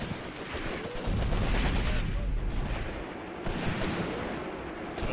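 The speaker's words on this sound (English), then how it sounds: "there comes our artillery, I believe" Artillery fire in the Graviteam Tactics war game, with deep heavy booms and rumbling blasts that come in waves over a dense crackle of gunfire, loud and continuous.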